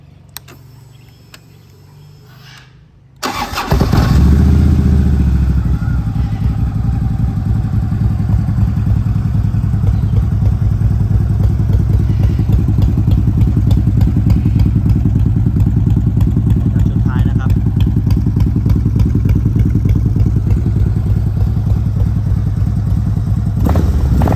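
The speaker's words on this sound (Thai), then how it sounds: "แต่เราลองมาฟังเสียงเครื่องยนต์กันนะ" A 2012 Harley-Davidson Electra Glide Ultra Classic 103 engine fires up after a brief quiet moment, then settles into a loud, steady, rumbling idle that runs unbroken to the end.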